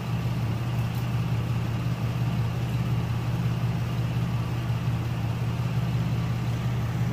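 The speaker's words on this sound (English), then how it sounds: "we already noticed that the valve train is quieter and the engine is idling smoother" Chevrolet Uplander engine idling steadily, a continuous low, even hum with a faint valve-train tick, heard close and alone.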